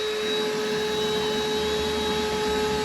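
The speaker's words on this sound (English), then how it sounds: "suck that piece out of the ceiling" A vacuum cleaner sucks debris out of the ceiling of a Dodge Dart under restoration, a loud steady whining roar with a fixed tone, close and continuous throughout.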